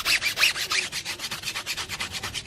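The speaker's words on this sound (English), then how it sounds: "I scrub them very hard with this AliExpress brush." A soft-bristle AliExpress brush scrubs a car tire hard, making a quick, rhythmic rasping swish, about seven strokes per second, close and steady with no talking.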